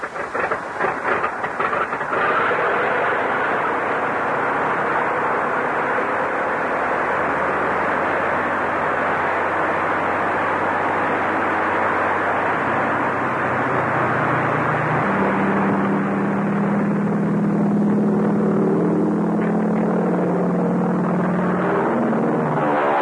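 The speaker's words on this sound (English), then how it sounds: "Start the plane." A propeller airplane engine starting up on a 1935 film serial soundtrack: a loud, continuous roaring drone that deepens and steadies into a low, throbbing engine note partway through, with no voices.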